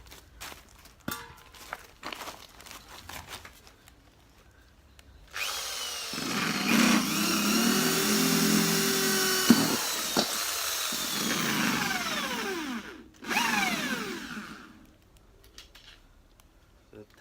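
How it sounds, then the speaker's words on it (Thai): A power drill whines loudly for several seconds, its pitch shifting as it bites into a refrigerant canister, preceded and followed by knocks and handling noises. "แล้วก็ค่อยเอาสว่านเจาะตามไป"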